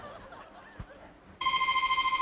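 A mobile phone breaks into a loud, steady, repeating electronic ringtone after a brief quiet stretch with a soft chuckle, during a comedy sketch set at a dinner gathering.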